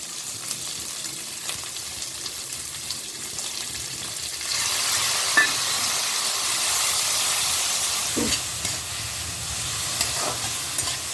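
Onion and capsicum frying with ginger garlic paste for pasta, a steady loud sizzle that rises into a stronger hiss after the paste goes in, with a few faint stirring taps.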